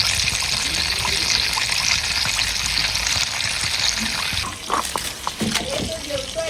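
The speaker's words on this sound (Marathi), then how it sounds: "तेल चरचरते चांगलं आहे बघ." Hot oil crackling and sizzling in a pan while chicken cooks in a village kitchen, loud and steady at first, then thinning into sputters with some talk in the background.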